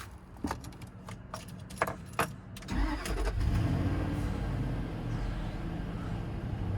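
A Range Rover L322 with the 4.4 V8 cranks briefly after a few clicks and key jingles, then catches and settles into a steady, close idle.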